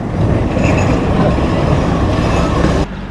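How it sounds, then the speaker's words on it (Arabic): An old Alexandria tram runs nearby with a loud, steady rumble and rattle of rail wheels that holds for almost three seconds before cutting off abruptly. "ترام القديم لسه شغال اهو"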